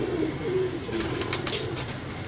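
Pigeons coo softly at a distance in a loft, low murmuring calls under a hissy background with a few faint chirps.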